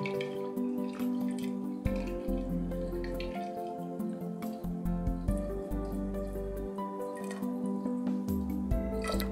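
Dilute sulfuric acid poured into a glass Kipp's apparatus gives a run of small drips, splashes and gurgles, uneven in rhythm, close and fairly quiet, with no talking.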